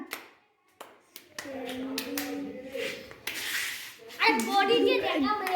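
Students clap their hands in a classroom during a playful English lesson on prepositions. Short bursts of clapping mix with children's voices and a teacher speaking nearby.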